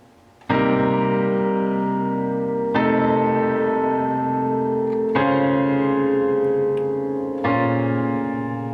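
Sustained piano chords change every two to three seconds, four full ringing chords in a slow progression, played alone with no talking.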